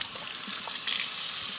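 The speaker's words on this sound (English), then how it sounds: "So I'm going to wash my hands, make sure they're nice and clean" Hands being washed under a running tap, a steady close hiss of flowing water with faint splashes and no talking.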